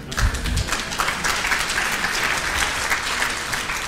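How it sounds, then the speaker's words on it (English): Audience applause at a conference session on Scottish independence campaigning, a steady dense wash of clapping filling the room close by, with a few louder claps near the start and no speech over it. "the applause for that"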